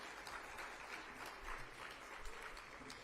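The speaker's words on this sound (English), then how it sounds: "So a round of applause for her and everything that she does for us." Audience applause at a political organizing conference plenary session, a steady wash of clapping at moderate level, faint and a little distant, with no talk over it.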